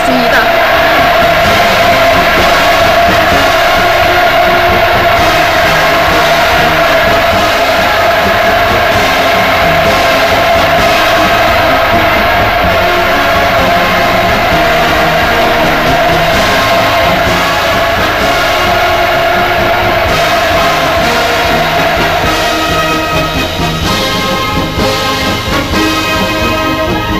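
A huge crowd roars with sustained cheering and shouting for the North Korean leader during Putin's visit to North Korea, a dense, loud wall of voices without pause throughout.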